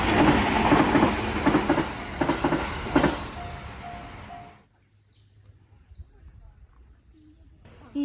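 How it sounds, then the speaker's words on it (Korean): A train rumbles and clatters past loudly near the Jurin path in Kyoto, then cuts off abruptly, leaving quiet ambience with a few faint bird chirps. "이 안에 기차가 지나가나 보다"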